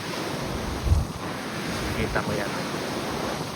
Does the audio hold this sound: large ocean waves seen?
yes